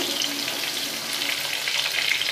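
Potatoes frying in oil, a continuous close crackling sizzle with no talking.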